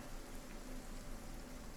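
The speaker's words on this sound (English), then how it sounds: "Yeah, it's raining again." Soft, steady rainfall in the video game RuneScape: Dragonwilds, a faint even patter with no voices.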